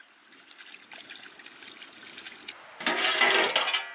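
Sunflower oil poured for a village-style beer chicken leg roast, starting as a faint liquid trickle and then turning into a louder, fuller splashing pour near the end, with no voices.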